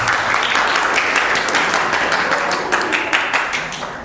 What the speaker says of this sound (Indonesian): Sebelumnya kita tepuk tangan dulu untuk kita semua.